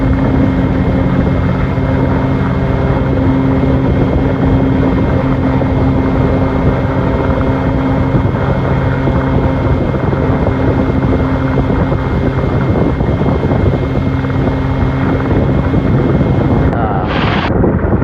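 A Rotorway helicopter runs up for takeoff at Space Coast, its engine and rotor giving a loud, steady drone with a constant hum throughout and a brief sharper burst near the end.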